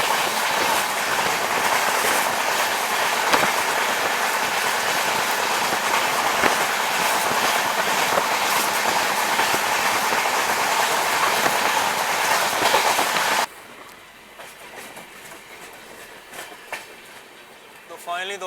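Patalkot Express train running on the rails, a loud steady rumble with rhythmic clickety-clack that cuts abruptly to a quieter cabin ambience with faint knocks.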